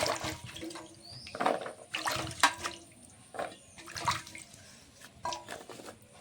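Taro stems and other vegetables are rinsed in water in a kitchen, giving splashing and sloshing in several short bursts with drips between, close by and moderately loud, with no talking.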